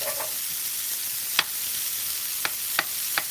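Bacon and ground beef fry in a pan with a steady hiss of sizzling fat, punctuated by a few sharp clicks and taps of a utensil against the pan, close and alone with no talking.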